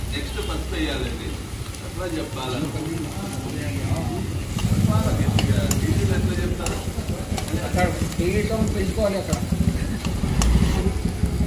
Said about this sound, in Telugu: ఆనియన్ అన్ని ఫ్రై అయినాక అల్లం పేస్ట్ వేసుకుంటాం